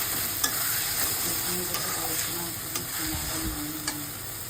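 Spice paste and onions sautéing in a pan for a mutton curry, with a steady sizzle and hiss under repeated scraping stirs and light clinks of a spoon against the pan.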